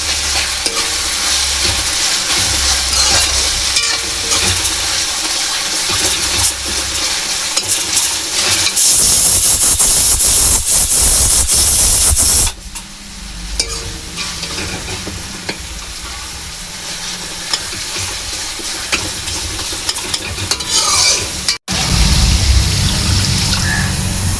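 Soup poured into hot oil in a pan sizzles loudly and steadily while being stirred, with a sustained frying hiss that shifts in intensity partway through and scraping stir sounds throughout.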